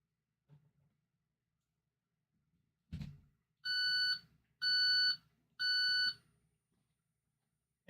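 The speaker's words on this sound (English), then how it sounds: "And you get the beep, beep, beep." Three loud, shrill electronic beeps ring out evenly spaced, each about half a second long, after a sharp knock, in an otherwise quiet room.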